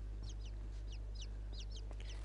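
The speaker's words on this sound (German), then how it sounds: "Die Vögel sind wieder da." Birds clucking and cheeping in the video game Inside, a series of short, sharp chirps spaced irregularly over a constant low background drone, moderately close and clear with no voices.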